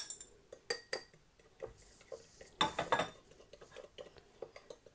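A spoon clinks against a bowl while olive oil and lemon juice are mixed into a salad dressing, giving a run of close, uneven metallic taps and scrapes with a brief louder burst of stirring midway.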